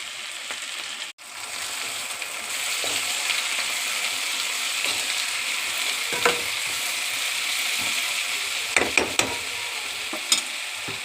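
Cabbage fries in oil in a pan with a steady, dense sizzle throughout, broken by a brief dropout near the start and a few sharp scraping clicks of stirring toward the end.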